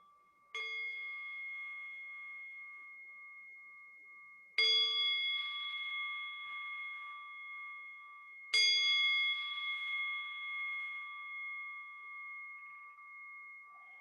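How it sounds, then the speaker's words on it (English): A ringing bell struck three times at slow, even intervals during a weekly spiritual service. Each strike is a clear, bright tone that sustains and slowly decays before the next one. No one speaks. "We ring and invite this bell"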